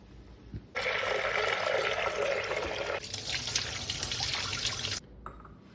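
Toor dal being rinsed in water for rasam, a steady rush of running, splashing water that starts suddenly, changes texture midway, then stops, with faint kitchen clatter around it.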